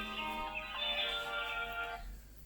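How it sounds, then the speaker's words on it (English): A phone ringtone rings in a home, a steady harmonic electronic tone playing loudly for about two seconds and then cutting off, with no talking over it. "My phone hasn't stopped ringing this morning."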